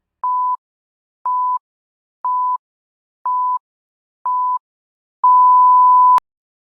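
Countdown timer beeping: five short, evenly spaced electronic beeps about a second apart, then one longer sustained tone cut off sharply, clean and alone with no talk.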